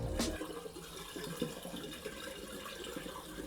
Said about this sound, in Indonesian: Sekarang kita keluarin airnya dan langsung keringin aja kali ya.